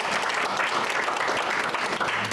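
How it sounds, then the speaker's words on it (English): A seated audience at a business presentation event gives a dense, steady round of applause, a continuous wash of many clapping hands with no voices heard. "Give him a big round of applause."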